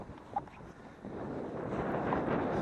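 Steady cold wind blows and buffets outdoors on the ice at Tuscarora State Park, rising in strength over a few seconds with a low rumbling gust.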